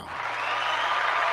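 Crowd cheering and applauding, a steady wash of claps and voices that swells slightly and holds loud and fairly close throughout.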